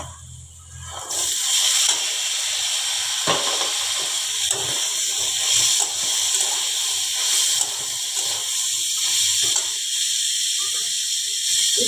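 Chickpeas tipped into a hot pan with browned onions, giving a loud, steady close sizzle and hiss with small scrapes and clinks throughout.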